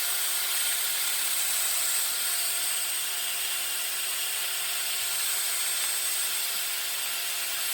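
A wood lathe spins steadily as a tool cuts the lip of a wooden garlic keeper lid freehand, producing a continuous hissing, scraping whir with a faint steady tonal hum underneath.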